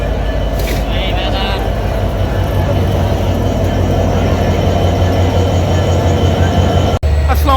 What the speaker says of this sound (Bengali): খুলনা থেকে ছেড়ে আসা ঢাকা অভিমুখী চিত্রা এক্সপ্রেস আট মিনিট বিলম্বে জয়দেবপুর জংশনে প্রবেশ করছে